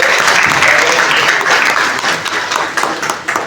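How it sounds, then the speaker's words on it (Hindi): Loud, close applause from a crowd at a National Voters' Day awards ceremony for colleges, schools and booth officers, dense at first and then easing into more uneven, scattered claps toward the end. "सभी आप ताली बजा करके"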